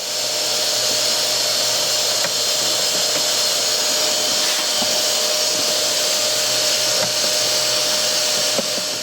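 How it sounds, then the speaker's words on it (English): Steady broadband vacuum cleaner roar runs unbroken close up while cleaning around an old cabin pollen filter on a Dodge Grand Caravan 3.6 V6, with faint tool ticks and clicks, no talking. "we'll definitely have to give this one a bit of a vacuum"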